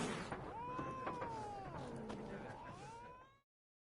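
An in-game cat in The Witcher 3 meows in long, drawn-out wailing calls with rising and falling pitch, loud and near, over a faint background bed.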